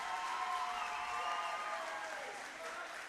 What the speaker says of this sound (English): can we please have a big round of applause for both of our fighters?